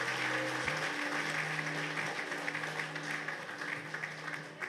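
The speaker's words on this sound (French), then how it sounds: "On peut l'applaudir bien fort, notre candidate numéro 4." Audience applause at the Miss New Caledonia 2020 pageant in Païta, a steady wash of clapping from a crowd with a sustained musical tone beneath it, fairly distant and even throughout.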